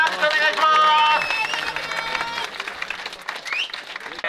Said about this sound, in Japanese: 皆さんもう一度拍手お願いします